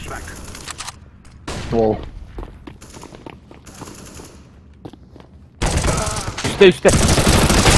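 Bursts of automatic gunfire in a Counter-Strike: Global Offensive match crackle in short volleys, then grow loud and dense toward the end, with players talking excitedly over them.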